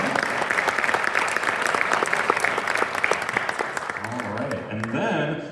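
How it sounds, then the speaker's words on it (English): Enthusiastic audience applause at a Joliet Central High School winter concert, honoring school administrators, faculty and staff; dense, steady clapping fills the hall, thinning toward the end as a voice begins speaking. "give them a round of applause for coming out"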